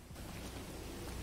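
Steady rain falls as a quiet sound effect, a dense continuous hiss of drops with a faint low rumble underneath and no voices.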